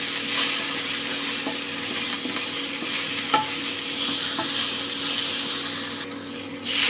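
Spoonful of cauliflower being stirred in a pan with turmeric, salt, chilli powder and a pinch of hing, a steady close scraping and sizzling texture with light clicks of the spoon throughout, no talking.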